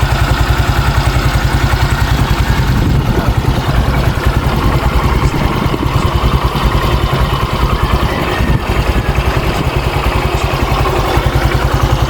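A motorcycle engine idles steadily and close after its CVT and fuel injection were cleaned with CVT FI cleaner, running with an even, rapid pulsing throb and no stalling.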